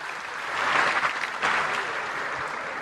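An audience at a live comedy sketch show claps in steady, dense applause for about three seconds, with no talking over it.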